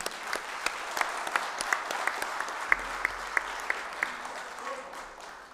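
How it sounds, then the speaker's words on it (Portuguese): Applause rings out in a municipal council session, many hands clapping steadily with sharp individual claps standing out, slowly tapering off near the end. "Salva de palmas."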